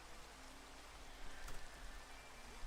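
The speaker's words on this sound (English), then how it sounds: "And it's raining." Rain falling in the Minecraft Cobblemon video game, a steady soft hiss of even rainfall with faint patter, continuous and alone without any talk.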